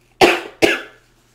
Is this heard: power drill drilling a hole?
no